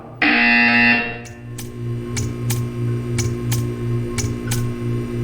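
A loud electronic buzzer from the video game Portal 2 sounds for about a second, followed by a steady low drone with faint regular ticks.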